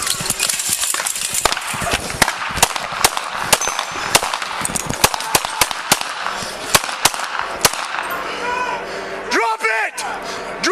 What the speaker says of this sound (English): The first 3 gunshots heard are fired by the suspect.